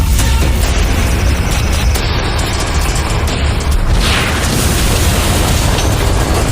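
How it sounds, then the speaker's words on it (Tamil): Loud, rumbling explosions in the anime One Punch Man boom continuously, with deep bursts layered over a dense roar and no talking. "எனக்கு பின்னாடி பயங்கர சத்தமா வெடிக்கிறத இப்ப நீங்க பாத்துட்டு இருக்கீங்க."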